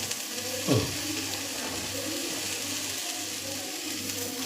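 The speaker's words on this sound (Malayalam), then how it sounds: "ചൊറിയണം ഇട്ട് നമ്മൾ ഒന്ന് ഇളക്കണം" Tragia (chorinyanam) leaves stirred in a pan in a Kerala kitchen: a steady close sizzling hiss throughout, with a brief louder scrape near the start.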